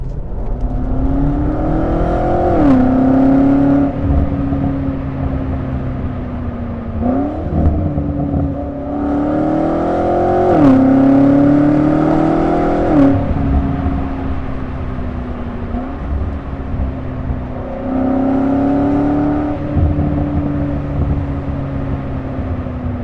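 A BMW M8 Competition Gran Coupe engine drones steadily while driving, rising and falling in pitch through repeated accelerations and gear changes, loud and close from inside the car.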